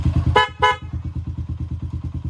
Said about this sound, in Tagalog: Ito yung ating dual horn.